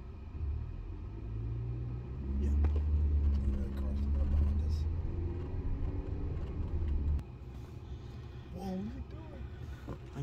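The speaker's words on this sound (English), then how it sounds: "And the car's right behind us." A car close behind with a steady low engine rumble that swells and drops away partway through, heard under people talking.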